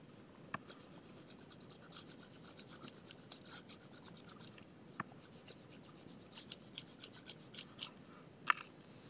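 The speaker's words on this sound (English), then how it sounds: "So let's write that down." Faint scratching of a pencil writing down an answer on paper, a few soft strokes and taps over a quiet room background.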